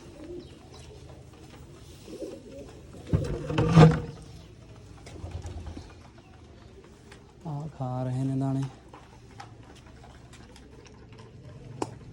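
Pigeons kept by a Punjabi fancier, with soft coos and brief flutters, one louder burst mid-way and a short tonal call later, set against quiet background noise where a person talks now and then.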